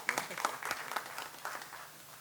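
Scattered clapping from a small group at a farmers' business school launch event, light and brief, fading out after a couple of seconds.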